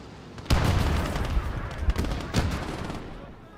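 Gunfire in the video game Gates of Hell, USA campaign on hardcore: loud, dense bursts of shots with sharp cracks recurring across the stretch, heavy and close, with no talk over it.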